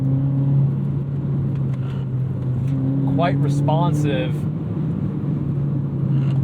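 A 2009 Honda Fit being driven, its steady engine hum and road rumble running throughout while someone talks over it.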